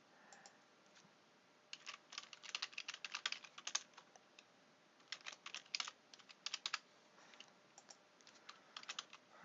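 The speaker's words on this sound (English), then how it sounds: "Type in my info." Someone types checkout details on a computer keyboard in irregular bursts of light, crisp keystrokes with short pauses between runs. The sound is close but fairly quiet.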